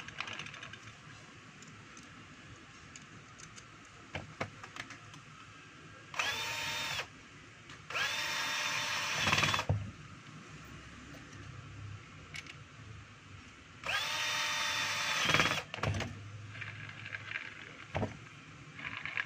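A power drill drives screws into the gearbox housing of a DeWalt DW810 grinder, giving three short whirring bursts of rising and falling pitch, each a second or two long, separated by quieter pauses with a faint background hum.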